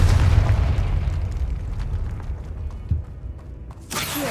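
The Confringo fire spell blasting in Hogwarts Legacy, a heavy explosive boom that opens loud and rolls into a fading rumble with crackling debris, then a small thump near the end and a fresh burst of noise.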